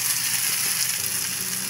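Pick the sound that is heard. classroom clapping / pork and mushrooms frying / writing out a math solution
pork and mushrooms frying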